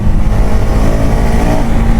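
A 2026 KTM Duke Gen 3 motorcycle engine revs hard at about 6,000 RPM in third or fourth gear, a loud, close, steady roar that pulses slightly and carries no talk.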